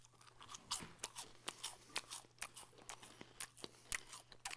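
Crunchy Trix Loaded cereal, red and blue pieces with a creamy filling, crackles between the teeth in a steady run of close, sharp bites and chews, with no talking over it.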